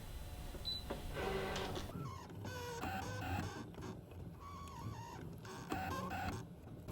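A ScanNCut cutting machine runs while drawing with a glue pen, giving steady close mechanical whirring with stepping motor pulses and small shifting tones, beginning after a brief quiet start and continuing throughout.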